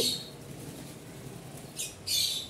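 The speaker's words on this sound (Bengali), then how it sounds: "এখন দেখেন পাখিগুলো হচ্ছে বের হয়ে এখানে দেখতেই পাচ্ছেন এখানে ওরা ঘোরাঘুরি করতেছে" Pet birds roaming loose in a room give short, sharp squawks, one at the very start and a couple more near the end, with a quiet room between them.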